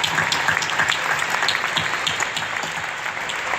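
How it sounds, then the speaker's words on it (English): Audience applause at a motivational talk, a steady dense wash of many hands clapping at moderate loudness, holding evenly throughout with no voices over it. "Give them a round of applause."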